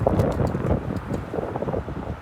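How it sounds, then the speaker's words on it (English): Strong wind blowing outdoors at a camp, a steady loud roar and buffeting rumble battering the microphone with no pauses and no talking. "way too windy."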